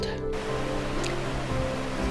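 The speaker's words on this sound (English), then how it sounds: "Now this is another of the upper waterfalls." An upper waterfall sends out a steady, even rush of water, a continuous broadband roar that holds at the same level throughout with no voices.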